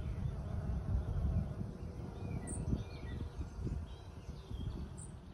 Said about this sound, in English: all of the bees being buzzy and busy.